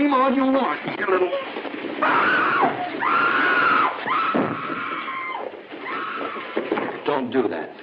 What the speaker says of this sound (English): now scream all you want